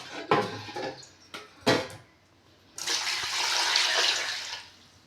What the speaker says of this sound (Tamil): ஓகே, தண்ணி ஊற்றியாச்சு.